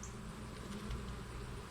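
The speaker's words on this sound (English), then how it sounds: "So good covering of bees." Honey bees covering the frames of a hive during a post-treatment check make a faint, steady, close buzzing drone with no talk.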